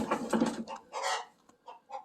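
A chicken in a sheltered coop with stalls clucks agitatedly up close, a series of short, choppy squawks and clucks coming in irregular bursts with brief gaps.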